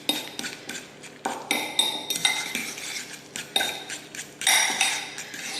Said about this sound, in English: Just swizzle it around, it'll get creamy